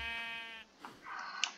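A sheep bleats in the video game Minecraft, one drawn-out bleat followed by softer game noises and small clicks.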